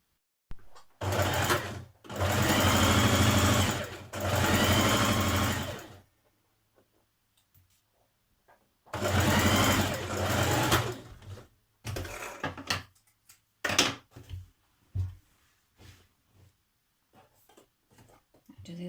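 A domestic sewing machine stitches a maxi skirt seam in two long, loud, steady runs of rapid needle clatter, separated by silence and followed by several short bursts and clicks.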